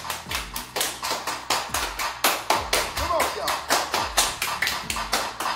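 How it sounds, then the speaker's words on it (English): A family claps their hands to a song, sharp steady claps landing on the beat over the music's thumping bass, close and loud, with voices calling out between. "Everybody clap your hands"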